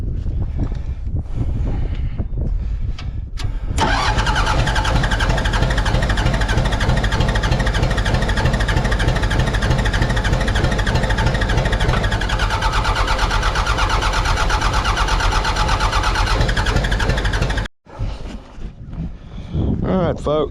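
A Mitsubishi BD2F dozer's diesel engine, revived after years of sitting, cranks and then catches. It roars loudly and steadily up close for about fourteen seconds before cutting out abruptly, with brief sputtering before and after.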